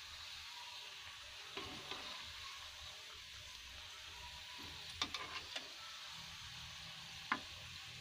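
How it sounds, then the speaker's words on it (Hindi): Gujiya fry quietly in oil over a low flame, giving a steady soft sizzle with a few faint clicks and taps scattered through it, alone and without talk. "ये देखिए लो फ्लेम पे जो है गुंजिया को फ्राई करेंगे।"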